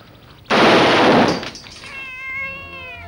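A mangy cat in the 1987 drama film Enemy Territory gives a clear, drawn-out meow with a rising and falling pitch, preceded by a sudden loud, harsh burst of noise.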